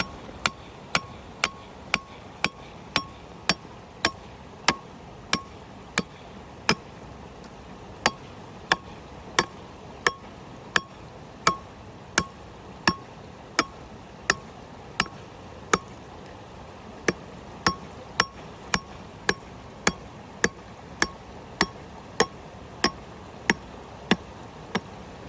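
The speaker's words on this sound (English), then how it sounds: "So this 4-pound hammer here is really your lifeline." A heavy 4-pound hammer strikes again and again in a steady, sharp rhythm, dozens of loud metallic blows spaced about half a second apart.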